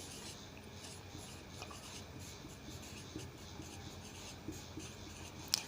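A pen writes on paper for a classified advertisement, a soft continuous scratching and rubbing up close, quiet and steady with a few small taps, no voices.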